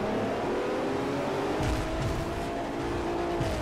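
A Bentley revs and accelerates in Forza Motorsport 4, its engine note rising steadily and loud, with brief tire or gear transients near the middle and end and no talk over it.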